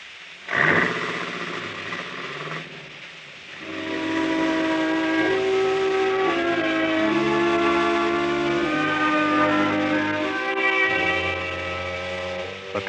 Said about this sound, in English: even the sound of a factory whistle is mighty pretty